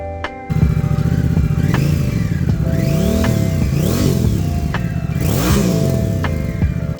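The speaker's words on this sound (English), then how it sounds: "And this is how it sounds with the new exhaust." Honda Rebel 1100 motorcycle fitted with a new aftermarket exhaust revs repeatedly at close range, its loud engine rising and falling in several blips over a steady rumbling idle.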